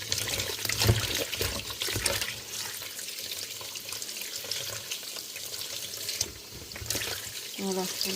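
Vegetables for grilling, such as aubergines, courgettes and peppers, are rinsed under a running kitchen tap, a steady close splashing flow with handling noises and brief changes as they are squeezed.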